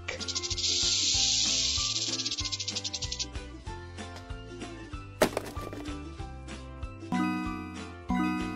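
A snake hisses in a children's animal puzzle game. A loud, sustained hiss fills the first few seconds over bouncy background music, followed by a sharp whack and tinkling chimes.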